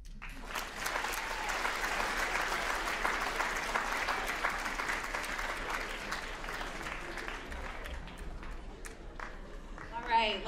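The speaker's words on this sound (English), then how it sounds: "let's give one more round of applause to our student presenters today" A school audience claps for student presenters at a high school writers' event, sustained and fairly close, with a few voices and cheers mixed in, then tapering off near the end.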